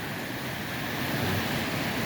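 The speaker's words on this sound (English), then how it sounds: "check out that kind of water flowing down. So it's really roaring through here." Snowmelt water roars through woods in a full, steady rush that stays loud and close throughout, with no voices.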